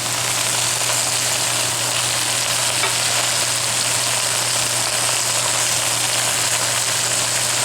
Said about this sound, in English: add back the bacon.